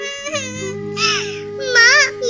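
Cartoon little bird Tuntuni cries in a high, wavering childlike voice, a voiced imitation of sobbing in three short bursts over a steady low background tone.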